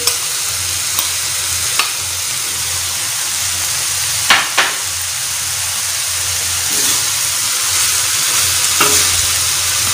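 Finely chopped onion sizzles steadily with keema on a hot tawa, a continuous close frying hiss broken by a few sharp clinks and scrapes of a spatula stirring, with no talking.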